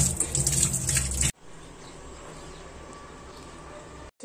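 Running water pours from a tap at a sink while hands are washed with soap, loud and close for about a second, then cuts to a quieter continuous trickle with faint background sounds.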